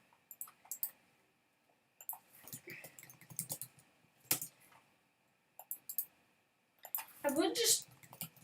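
Quick clatter of keys on a computer keyboard, fast typing in short bursts with pauses between them, ending in a dense flurry of clicks; a person talks quietly in between.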